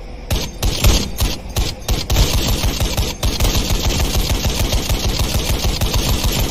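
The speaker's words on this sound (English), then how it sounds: "Alright, gunner, open fire." Sustained automatic machine gun fire from a vehicle gunner in a night-operations video game, loud rapid bursts with brief gaps early on, then a continuous rattling stream of shots.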